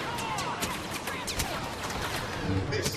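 Rapid blaster fire in the Star Wars Battlefront video game, dense overlapping zaps and bursts crackling continuously at close range with loud, busy battle noise throughout.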